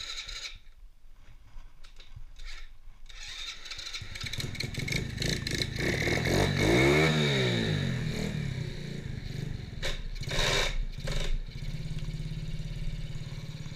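A modified Honda ATC70 mini three-wheeler with a pit bike motor starts with a clattering crank, then its small engine revs up and down loudly nearby, climbing to a peak and settling into a buzzing idle with further blips.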